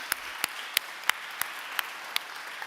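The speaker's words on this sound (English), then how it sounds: "Can we give them a round of applause?" About eight sharp claps ring out at a slow, even pace, distinct and separate rather than a full crowd's applause.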